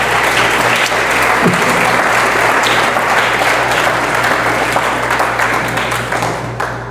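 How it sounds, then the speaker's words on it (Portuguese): A church congregation claps loudly and steadily, a thick continuous roar of hands filling the room, with a low steady hum underneath and the applause tapering slightly toward the end. "Aplaude forte o Senhor."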